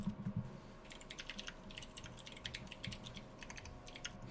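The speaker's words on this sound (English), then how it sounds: "As we hear Trevor typing away." Rapid keystrokes clatter on a Razer computer keyboard during a Minecraft build-off, an uneven stream of quiet clicks close to the microphone with no talking.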